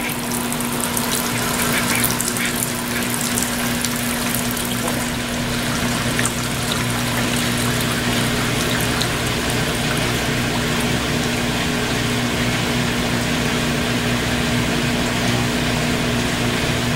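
Steady rushing spray of water rinsing the tub of a Brastemp Ative Smart Sensor 11 kg washing machine, a continuous hiss over a constant low pump hum, near and loud with no talking.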